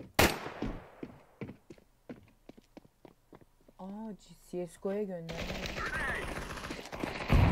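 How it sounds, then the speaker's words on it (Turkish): Rapid bursts of Counter-Strike 2 gunfire crack in quick succession on a workshop map, followed by a short spoken phrase and then a louder rush of noisy game sound. "Silah sesi oluyor."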